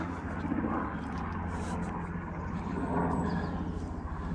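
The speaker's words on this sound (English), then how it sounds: "as the helicopter goes overhead" A helicopter drones overhead at moderate distance above a castle garden, a continuous low engine hum holding throughout.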